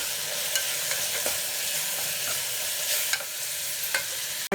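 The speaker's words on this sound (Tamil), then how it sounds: "சேர்த்துட்டு நல்லா கிளறி விட்டுடலாம்." A spoon steadily stirs ginger garlic paste with coriander, chili, turmeric and garam masala in a hot pan, producing a continuous close sizzle with faint scraping strokes throughout.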